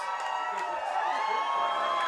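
A baseball crowd at an Edenton Steamers vs. Tarboro River Bandits game cheers and whoops steadily as a player dives into the mud, a dense, continuous wash of voices heard at a distance.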